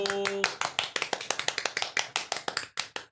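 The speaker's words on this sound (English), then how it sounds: "That's all the applause you get" A short burst of applause from a small group, quick sharp claps at a steady rhythm, close and fairly loud, after a brief voice at the start.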